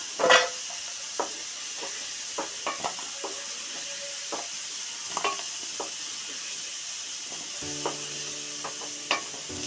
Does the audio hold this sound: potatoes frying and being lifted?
yes